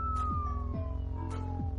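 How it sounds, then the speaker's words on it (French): Police sirens in the Hotline Miami game, a wailing tone sliding slowly downward over a repeating low rhythmic game soundtrack, with brief bursts of noise. "On entend les sirènes de la police."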